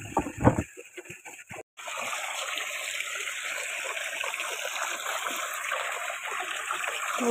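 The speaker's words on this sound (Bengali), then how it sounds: "বিকেলবেলায় জল টল ভরে নিচ্ছি।" Water pours steadily into containers outdoors in the late afternoon, a continuous rushing, splashing stream that starts after a brief pause and holds at an even level, with a little talk near the start.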